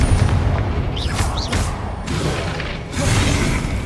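The Confringo explosive spell in Hogwarts Legacy gives a dense run of booming blasts and whooshes in a continuous, loud rumbling barrage with brief swells and tonal magical flourishes.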